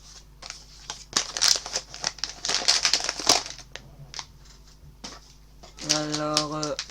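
Crinkling and tearing of a Hello Kitty mystery booster plush pack's plastic wrapper, close and busy with rapid crackles for several seconds, then a brief voice near the end.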